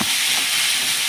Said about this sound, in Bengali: পেঁয়াজটা বেশ ভালো করে একটু ভাজা ভাজা হয়ে এসছে।